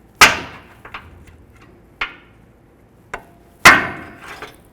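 Hammer striking a pry bar to break a tie rod boot clamp on a 2007-13 Nissan Altima: five sharp metallic bonks spaced unevenly, the first and last loudest, ringing briefly in a quiet garage with no voices.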